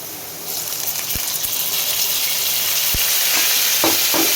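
Potatoes fried with whole tempering spices for a Bengali paneer and potato curry hiss and sizzle loudly and steadily in the pan, the noise swelling as a little water goes in, with a few sharp clinks.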